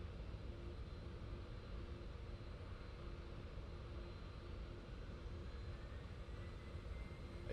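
Steady jet engine drone from an airplane taxiing on a runway in the Roblox Flightline game, an even, unbroken hum at moderate level with no voices.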